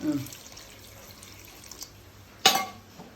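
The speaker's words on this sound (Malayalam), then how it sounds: "നമുക്ക് വെള്ളം ഒഴിക്കാം. ആവശ്യത്തിന് വെള്ളം." Water splashes briefly into a cooking pot of raw plantain and green chillies for Onam kaalan, a single short, loud pour near the end after quiet kitchen background.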